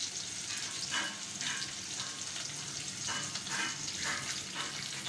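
Onions fry in a pan until light brown, a low, steady sizzle with occasional soft scraping stirs, fairly quiet and without talking.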